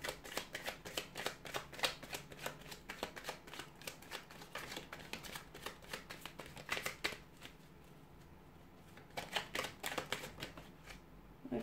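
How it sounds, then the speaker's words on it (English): Tarot cards shuffled repeatedly in quick riffling bursts, crisp and close, with brief pauses between shuffles and no speech. "I'll go ahead and give the cards a shuffle"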